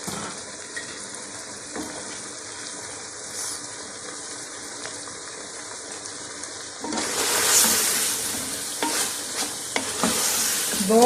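Finely chopped cabbage hits a pan of browned meat for a cabbage and mutton curry, a steady sizzle and stirring that grows louder and brighter partway through as the cabbage goes in, no voices.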